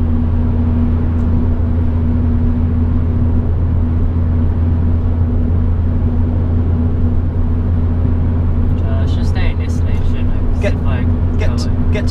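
Steady engine hum and road rumble inside a car on a fast road during a driving lesson, droning loudly throughout, with a faint higher clatter creeping in near the end.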